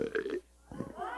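A youth group belching contest on New Year's Eve, 1991: a short, croaky belch from a contestant, followed after a brief gap by a longer, rising voiced burp, fairly quiet and close.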